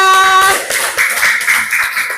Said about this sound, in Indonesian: beri tepuk tangan dulu buat kelompok 3